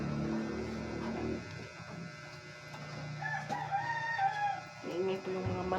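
Roosters crowing, a couple of rising, drawn-out calls in the middle distance over low background noise and faint voices.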